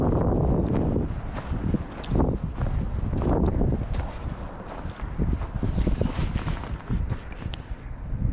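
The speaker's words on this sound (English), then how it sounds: "Man, that wind" Gusty wind on a trail buffeting the microphone in loud, uneven rumbling bursts, with light rustling and no clear talk.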